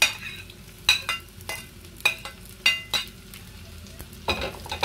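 Green chilies and dried chilies fry in hot oil with a constant sizzle, punctuated by repeated sharp scraping and stirring clatters in an irregular rhythm.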